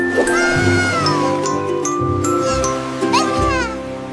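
A cartoon cat in a French children's nursery song meows several times over music, drawn-out and rising, with bright sung melody and tinkling sounds around it.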